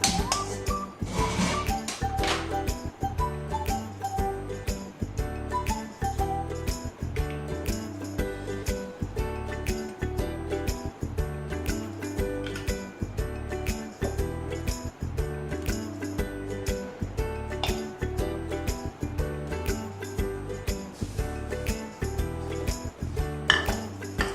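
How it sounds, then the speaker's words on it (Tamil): Semolina (rava) roasting in a pan for rava laddu, a spoon stirring and scraping the metal in a steady run of close, light clinks and scrapes that lasts the whole stretch. "முதல்ல ரவையை வறுத்துக்குவோம்"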